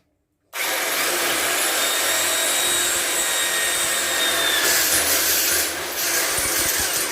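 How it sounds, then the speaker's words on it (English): A power drill fitted with a larger bit bores holes during a garage trolley rebuild, a steady loud whirring grind that starts abruptly and runs continuously with slight changes in pitch and load. "I will drill the holes a little bit bigger."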